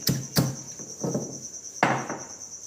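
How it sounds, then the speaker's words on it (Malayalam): Shallots crushed by pounding for a dried-fish chammanthi, a handful of sharp thuds in an uneven rhythm, close and distinct, over a steady high-pitched whine in the background. "അപ്പോൾ ഇത്തിരി ഉള്ളി ഞാൻ ചതക്കാണ്"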